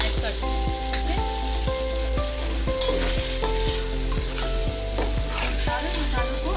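A spoon stirs yogurt and spices into sizzling meat in a pot for dal and gosht, with rhythmic scraping strokes over a steady frying hiss, close and loud, and no talk.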